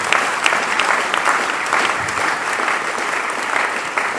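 A church congregation bursts into sustained applause, a dense, steady wash of many hands clapping that fills the room evenly throughout, with no voices standing out.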